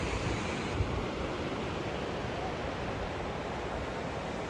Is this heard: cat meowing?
no